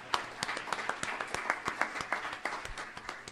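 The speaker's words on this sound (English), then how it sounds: "I can ask for a round of applause for." A small audience at a water-quality forecasting talk gives the speakers a round of applause: fairly quiet, with individual hand claps distinct and unevenly spaced rather than blending into a roar.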